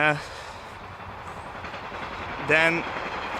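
A train passes close by with a steady broadband rumble throughout, and a brief horn-like tone sounds near the end.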